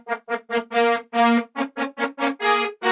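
Dry DX7 trumpet synth preset with no effects, a run of about a dozen short brassy notes in a bouncy rhythm, close and clear with no voices.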